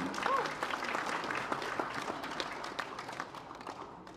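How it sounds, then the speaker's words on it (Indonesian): An audience claps at length for election-commission data division staff at an app launch, a dense, steady wave of applause that slowly thins, with a voice faintly audible in places. "Tepuk tangan untuk teman-teman divisi Datin se-Indonesia"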